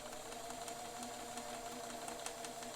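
A Bernina 530 Record sewing machine runs steadily while stitching a wave pattern, its motor a continuous whir with faint rapid ticking of the needle mechanism at moderate volume, no voices.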